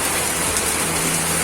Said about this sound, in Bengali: আকাশ ভেঙে বিকট শব্দ করে বৃষ্টি শুরু হলো।